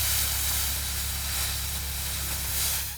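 A steam cleaner sprays a steady hissing jet onto a sacred petroglyph rock face during a Shoshone rock art preservation effort, loud and continuous for the whole stretch with no voices.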